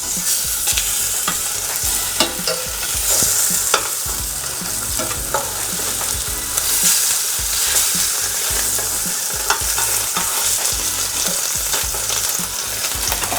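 Salmon fillets frying in a pan just after being flipped, a loud continuous close sizzle with scattered spitting pops throughout, no voices.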